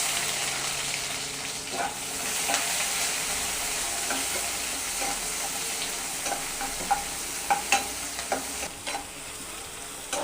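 Onion and whole spices such as cloves sizzle steadily in hot oil in a pan, a constant frying hiss with light scraping clicks from a stirring spoon.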